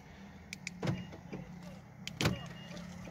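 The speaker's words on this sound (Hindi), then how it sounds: "गाड़ी को अगर आप बंद कर दें और लॉक करे तो ये शीशे खुद ब खुद, इसके साथ ऑप्शन है, खुद ब खुद पोल होते हैं।" A 2012 Nissan Juke locks and its power windows close automatically, with a low motor whir and two sharp clicks or thumps about a second apart, heard close and fairly quiet.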